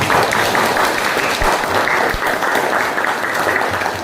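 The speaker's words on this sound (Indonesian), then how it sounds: "Tepuk tangan untuk kalian." Students in a classroom break into steady, continuous applause, a dense wash of clapping held at even loudness for the whole stretch with no talk over it.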